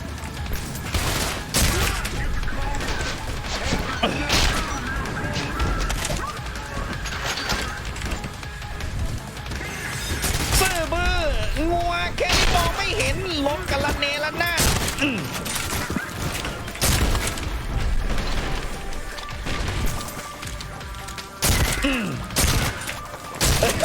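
Gunfire from a shooting video game comes in rapid, crackling volleys and dense bursts throughout, mixed with whooshing effects while a voice talks over the action.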